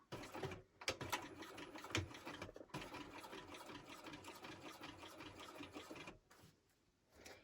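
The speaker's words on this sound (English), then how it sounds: "I am going to top stitch it at 1/8 of an inch along the base" A sewing machine top stitches a long seam through many thick layers of a shoulder bag, running in a close, steady mechanical chatter with a few brief pauses and a quieter stretch at the end.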